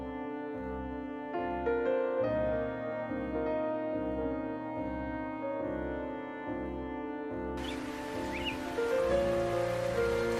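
Cartoon rain sound effect starts suddenly partway through as a bright, steady hiss under a repeating looping music bed, with no talking.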